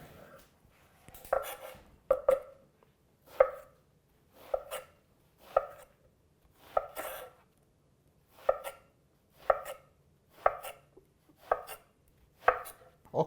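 Knife chopping vegetables into cubes on a cutting board for caponata, a run of about a dozen crisp, evenly spaced chops, close and clear with no talk.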